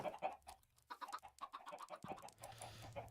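Chickens in the video game Minecraft cluck in a quick, faint run of short calls, fairly close and repeated, with game ambience behind.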